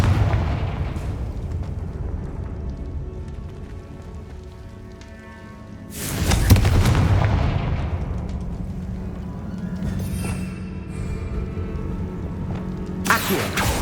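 Confringo blasting spell explosions in Hogwarts Legacy, several heavy booming blasts with long rumbling decays, the biggest burst near the middle and another sharp hit at the very end, loud against background game ambience.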